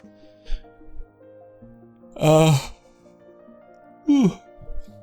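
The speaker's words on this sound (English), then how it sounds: "Sorry, I got a little bit of the yawns." A drawn-out human yawn, voiced and sliding in pitch, comes close and alone, followed a moment later by a second shorter yawn-like breath amid quiet background.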